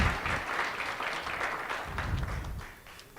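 An audience at a university library book club launch claps as a poet walks to the front, uneven applause rising and falling in bursts over a few seconds before tapering off.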